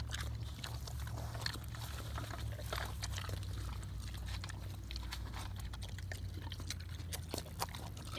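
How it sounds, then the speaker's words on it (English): Pigs eating up close, a steady wet smacking and slurping with soft snorts running continuously over a low background hum, no talk. "It's not cute when we smack, but it's cute when pigs smack."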